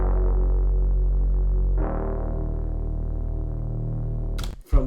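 Layered synth sub bass and mid bass playing together, a deep, full sustained tone with one note change partway through, loud and steady before a brief glitchy burst near the end.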